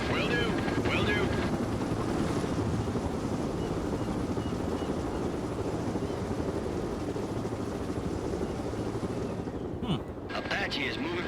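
Apache helicopter gunship in the World in Conflict video game, a dense continuous rotor and engine roar with low thudding throughout, loud and steady, with a brief dip and clicks near the end.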